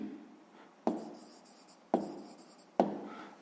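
Pen or pencil writing numbers in a notebook during a sixth-grade math exercise: close, soft scratching strokes marked by three sharp taps of the tip on paper, quiet and alone.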